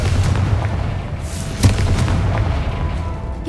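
A Confringo fire spell explodes in Hogwarts Legacy, a sharp blast rising out of a dense, continuous rumbling game soundscape, loud and close, with no voices.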